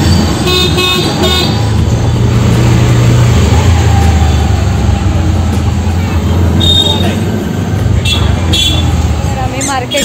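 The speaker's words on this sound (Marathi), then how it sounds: "रिक्षामध्ये बसलो आहे" Riding in an auto rickshaw through evening traffic, with a loud, continuous engine drone and road rumble, horns tooting around it, and voices talking over the ride.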